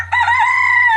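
A chicken calls out sharply inside a chicken house where new baby chicks join an established flock, one loud, drawn-out vocalization sounding close and alone.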